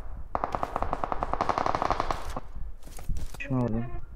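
Rapid automatic gunfire in a video game, loud and close, rattling in a dense burst for about two seconds, then a few scattered shots before a short voice cuts in.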